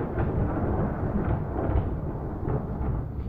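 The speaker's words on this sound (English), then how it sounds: "the thunder almost scared me" Deep rolling thunder rumbles steadily through a horror video game, a loud, sustained low roar with swelling surges and no voices.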